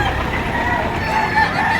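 Crowd of chickens at a quality poultry market in Lipa, Batangas, clucking and crowing steadily and close by amid a busy market din, with no one talking.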